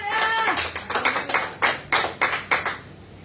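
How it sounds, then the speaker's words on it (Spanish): A church congregation clapping during a sermon, a short run of distinct rhythmic claps at moderate distance, about eight separate hand strikes over three seconds, with a brief voice or tone at the start. "podemos darle un aplauso"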